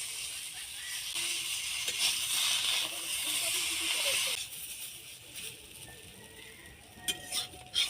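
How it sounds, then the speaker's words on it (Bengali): Flat beans rubbed with salt fry in oil, a steady moderate sizzle with occasional stirring clatter that quiets midway, then a few utensil knocks near the end. "এবার ওই তেলের মধ্যে আমি শিমগুলো ভেজে নেব"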